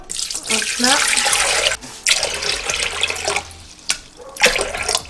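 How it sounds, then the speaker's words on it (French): Water, a measured litre, gushes and splashes into a Thermomix Varoma in several close, loud bursts broken by short pauses, as if poured in stages; no speech. "Dans le varoma, je vais mettre 1000 g d'eau."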